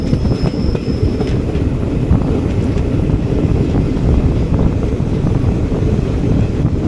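A morning passenger train runs from New Alipurduar to Siliguri Junction through the Dooars in monsoon season, its loud continuous rumble and clickety-clack of wheels on rails filling the space, heard from on board.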